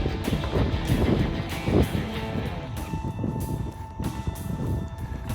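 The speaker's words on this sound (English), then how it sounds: "But we got a train coming." A train approaches a two-track railroad crossing near an old caboose, a loud rumbling rush of rail noise with heavy wind buffeting the microphone and no talk.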